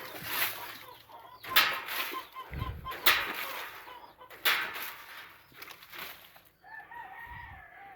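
Brown red chickens cluck and call close by in a farm coop during morning chores, short irregular bursts with a crow-like call, fairly faint and with little talk.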